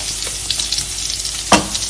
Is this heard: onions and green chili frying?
yes